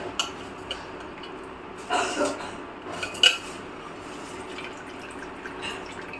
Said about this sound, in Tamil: இப்போ அரிசி போட்டுக்கலாம்.